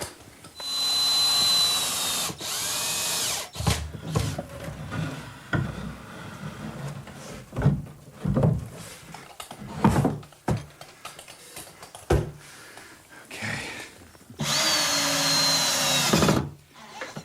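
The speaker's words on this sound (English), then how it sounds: "Now I'll secure it with a few screws." A power drill drives screws to fix a wall cabinet in place during a bookcase build, with loud sustained whirring bursts at the start and end and shorter clicks and thuds of handling between them, no talk.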